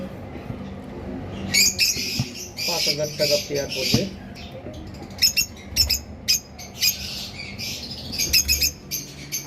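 Red head opaline lovebirds squawk in sharp, shrill bursts from a cage nearby, calling in irregular clusters while someone talks over them.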